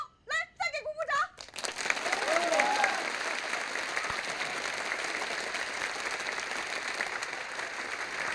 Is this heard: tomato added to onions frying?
no